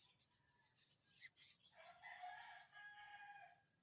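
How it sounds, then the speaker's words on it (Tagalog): A rooster crowing far off from a neighboring house in a rural Philippine setting, a single faint crow rising over a constant chorus of crickets and insects. "may narinig akong manok, may bahay doon."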